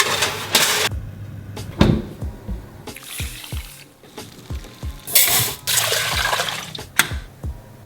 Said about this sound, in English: I'll be chucking the kettle on and covering them in hot water.